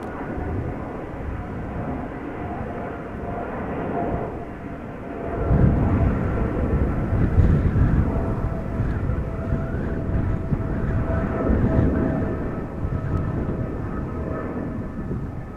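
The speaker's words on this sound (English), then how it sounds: "777 is departing from center," A KLM Boeing 777 departing from the runway at Amsterdam Schiphol, a broad jet roar that swells partway through and holds steady, heard from a distance with no talk over it.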